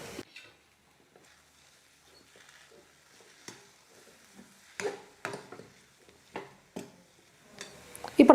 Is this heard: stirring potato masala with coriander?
yes